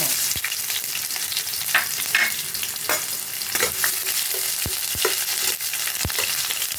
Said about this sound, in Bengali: এখন তেলটা গরম হয়ে গেছে, এর মধ্যে দিলাম শুকনো লঙ্কা, তেজপাতা, দিলাম পেঁয়াজ কুচানো দিলাম